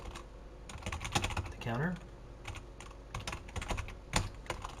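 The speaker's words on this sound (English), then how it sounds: "I can type." Typing on a computer keyboard while learning to program, a run of sharp, uneven key clicks close by, with someone speaking briefly among them.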